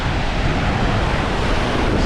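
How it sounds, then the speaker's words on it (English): Small ocean waves roll in and break on a beach near a boulder breakwater, a steady loud wash of surf mixed with wind buffeting the microphone. "these are just little waves coming in"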